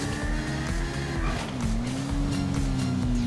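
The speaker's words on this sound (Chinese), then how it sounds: "Seven 的车，它很不能飞啊，它是摩托车改的" A car converted from a motorcycle driving in GTA 5, a loud engine drone with shifting pitch and a gear change midway, tires squealing over it, no one talking.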